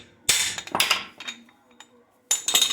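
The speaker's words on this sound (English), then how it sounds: "Chinese slide hammer gonna bust on me" A slide hammer strikes repeatedly while pulling an axle from a 1957 Chevy rear end, giving sharp metallic bangs in quick bursts with brief gaps, close by in a garage.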